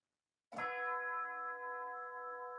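A single tubular bell strikes cleanly out of silence, then rings on with a long, shimmering sustain thickened by chorus and reverb, alone and moderately loud.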